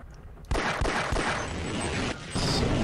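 Dense, sustained gunfire from the video game Half-Life, a loud continuous burst of rapid shots with no talking, briefly dipping before resuming.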